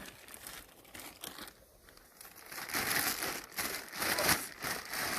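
A large plastic bag crinkles and rustles up close as it is handled, the crackling swelling louder in bursts toward the end.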